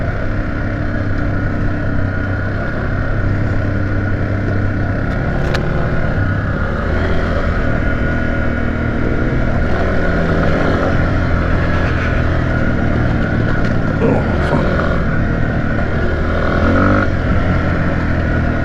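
A dual sport motorcycle picking its way through a slippery mud section on a downhill trail, a loud continuous engine drone close by with small surges in revs and no break.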